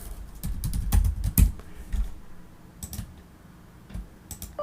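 Typing on a computer keyboard, a quick flurry of close, clattering key presses that thins out into a few scattered taps.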